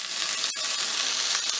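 Chopped onions frying and sweating in a hot pan for chicken and rice, a steady bright sizzle held at an even level throughout, close by, with no talking.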